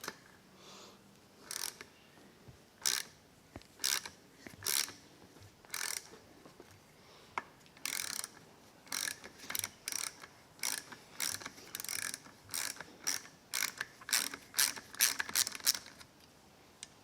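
A small 7mm socket ratchet turns a fastener on an old motorcycle, probably a Yamaha XJ650, giving repeated bursts of rapid clicking, close and fairly quiet, with short pauses between strokes.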